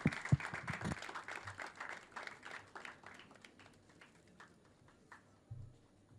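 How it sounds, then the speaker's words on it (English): Audience applause in a hall during a bouquet presentation at a college symposium, a burst of clapping that starts fairly loud and thins out into scattered, fading claps over several seconds. "A huge round of applause, guys, everyone."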